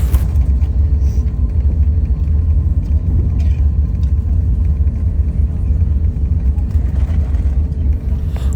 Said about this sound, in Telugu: అసలు రన్వే మీద దూసుకుంటూ వచ్చేస్తుంది బండి